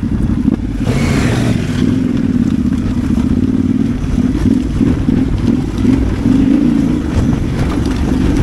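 Yamaha Tenere 700 World Raid motorcycles ride off-road along a dark lane in the Peak District, the engines droning loudly and steadily up close with rumbling revs and rattling clatter over rough ground.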